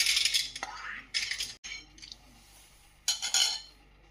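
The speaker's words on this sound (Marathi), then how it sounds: "इथे आता आपण कुकरमध्ये ही डाळ टाकणार आहोत।" Lentils are tipped into a pressure cooker, giving several short bursts of rattling, clinking grains against metal, separated by quiet gaps, fairly near and not loud.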